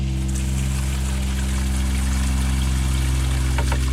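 Pink antifreeze running from the shower of a 2002 Roadtrek 190 Popular Class B RV during winterizing, a steady rushing water flow over a strong low pump drone.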